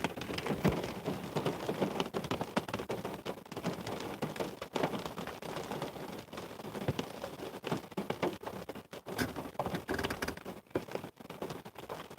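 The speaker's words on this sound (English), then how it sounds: "Oh, it's really starting to rain now." Heavy rain falls steadily for several seconds, a dense hiss with scattered drops pattering on nearby surfaces and no voices.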